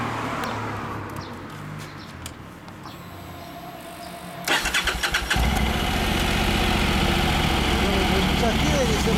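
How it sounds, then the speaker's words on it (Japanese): A Honda NC750X motorcycle cranks and fires up about halfway through, then settles into a steady, loud idle with a low throbbing rumble, outdoors with birds chirping faintly before the start. "NC750X エンジン音聞かせてもらえますか"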